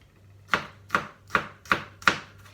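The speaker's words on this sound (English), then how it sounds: "So I'm just going to roughly chop my ginger and garlic." A knife roughly chops ginger and garlic on a board, five crisp, evenly spaced thuds, close and clear, with no talking.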